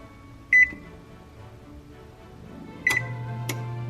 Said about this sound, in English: I don't know why our oven is having a seizure, so please ignore that